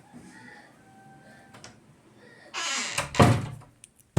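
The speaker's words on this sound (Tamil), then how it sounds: "கதவு போட்டுப்போம்" A door closing in the Free Fire video game, a scraping slide followed by a heavy thunk and short rattle, loud and close after a quiet stretch with faint game tones.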